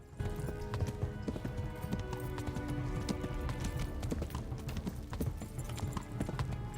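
A horse gallops in the medieval game Kingdom Come Deliverance with a rapid, steady clip-clop of hooves that carries throughout at moderate loudness. A brief whinny may sound and no one speaks.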